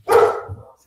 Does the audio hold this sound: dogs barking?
yes